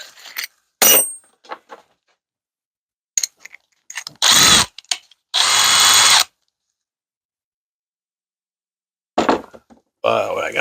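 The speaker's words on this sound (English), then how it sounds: "And drill them out with a 1/4-inch drill bit." Power drill boring holes with a 1/4-inch bit on an N-scale model railroad module leg, heard as several short whirring bursts of one to two seconds separated by pauses, close and loud, with brief clicks and handling noises in between.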